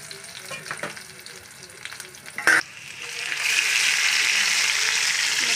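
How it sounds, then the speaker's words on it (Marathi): Finely chopped garlic and ginger fry in hot oil in a pan, quiet stirring and scraping with one sharp knock, then a strong steady sizzle swelling up and holding loud. "थोडं लाल थोडं फ्राय करून घ्यायचं आहे लसूण."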